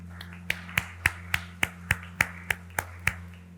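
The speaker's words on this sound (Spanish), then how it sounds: "Denle un fuerte aplauso al Señor" Steady rhythmic clapping at a church service, regular sharp claps about three or four per second, close and clear over a low electrical hum.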